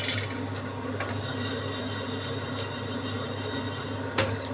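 Melon seeds are slowly dry-roasted in a pan over low heat, stirred with soft, steady scraping and light rubbing sounds close by, with no talk.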